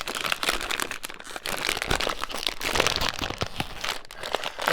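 A sealed plastic snack packet of popcorn is crinkled and twisted while someone struggles to open it, giving close, loud bursts of crackling plastic in irregular rapid handfuls.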